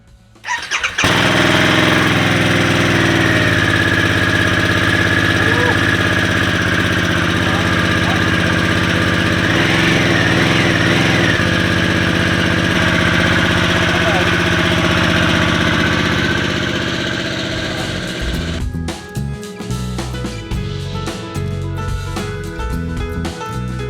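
A 2023 Harley-Davidson Sportster S motorcycle starts, then its engine runs loud and steady at close range for about eighteen seconds before it shifts into a rougher, uneven rumble near the end.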